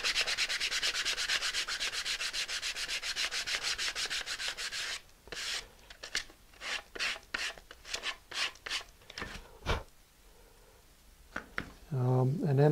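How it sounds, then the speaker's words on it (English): Medium grit sandpaper is rubbed over a model part from a lander kit. Fast, even sanding strokes come first, then slower separate scrapes, and a voice comes in near the end. "You can use some medium grit sandpaper. You'll see that it's sanding down"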